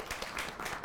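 Audience applause at a youth political debate semifinal, a steady dense patter of many hands clapping through the whole short moment, moderately loud with no voices over it.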